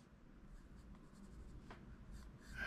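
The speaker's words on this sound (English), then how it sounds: "if you just want to do some rough sketching of a character with one of these soft pencils, it takes very nicely" Soft black pencil sketching a rough animation character pose on paper: faint, intermittent scratchy strokes over a quiet background, with a slightly louder stroke near the end.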